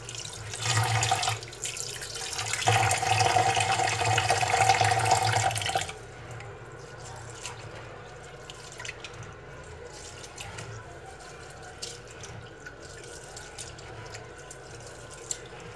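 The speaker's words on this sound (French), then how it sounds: "je vais rincer mon riz basmati pour enlever toutes les impuretés" Basmati rice rinsed under a running kitchen tap, water pouring loudly into a sink for about six seconds, then softer trickling and dripping as the flow stops.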